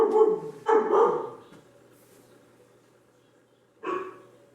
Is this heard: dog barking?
yes